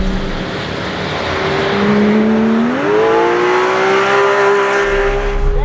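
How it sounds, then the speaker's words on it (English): A supercar engine revs hard on a race track, its rising pitch sweeping upward and then holding at a loud, steady high-revving note, alone and close throughout. "Oh man, that engine."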